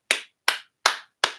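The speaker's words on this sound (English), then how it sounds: "I applaud that." Hands clap four times at an even, deliberate pace, each sharp crisp clap close and distinct, separated by clean silence.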